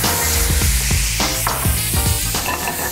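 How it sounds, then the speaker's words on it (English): Cognac poured into a pan of browned butter and pepper crackles into a loud, constant sizzle, with bubbling pops and a few metallic stirring scrapes. "be careful, it will flambé. We're gonna add a good measure of cognac"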